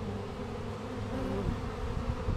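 Honey bees from a tree colony buzz around an extra-deep horizontal hive, a steady, close insect drone with a low hum that holds through the whole moment, no voices.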